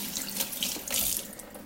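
Cold or lukewarm water runs steadily from a kitchen tap for cloth-wiping a counter, a continuous close hiss and splash with no voices.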